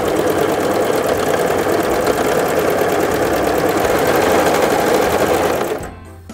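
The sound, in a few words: Brother CV3550 coverstitch sewing machine stitching fabric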